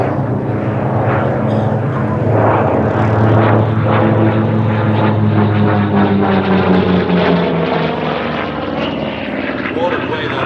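A propeller-driven warbird at Sywell airshow passes overhead in a long, powerful flyby. The engine drones and throbs, rising and falling as it approaches and recedes, while a commentator talks over the loud, sustained roar.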